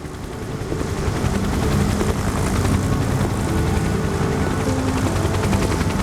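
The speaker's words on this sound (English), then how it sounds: "helicopter, helicopter, helicopter." A video game helicopter tied to the MS Estonia ship sinking gives off a loud, steady rotor drone that swells over the first two seconds and then holds at a constant roar.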